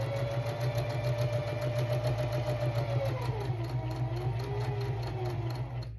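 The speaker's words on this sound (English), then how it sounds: "Let the machine force the fabric through." Sewing machine running steadily through fabric on a straight seam, a fast even mechanical stitching chatter with a constant motor hum, close and continuous, slowing slightly at the end.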